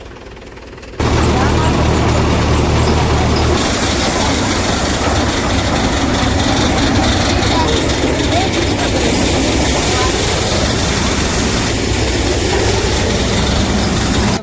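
A rice mill engine starting up with a sudden loud jump to a steady, heavy, droning roar that runs continuously at close range.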